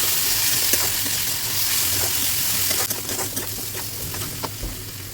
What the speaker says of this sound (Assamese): দালিখিনি ভাজি ল'ব লাগিব।